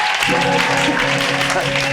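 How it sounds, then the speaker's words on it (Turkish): A studio audience applauds on a Turkish late-night talk show, a dense, steady clapping wash that keeps up for the whole moment, fairly loud and mixed with some voices. "Böyle alkışladın."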